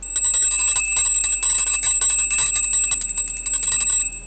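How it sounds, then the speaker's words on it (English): A small bell is dinged repeatedly in quick succession, bright metallic rings overlapping one another loudly and close up, with no talking. "I'm going to ding the bell to kind of like clear the energy."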